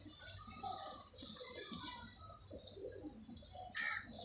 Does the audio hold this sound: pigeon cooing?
yes